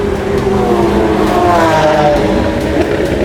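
A 2017 Lamborghini Aventador S accelerating hard at Phillip Island, its loud engine revving with rising harmonic tones through the gears, close and continuous throughout with no talk.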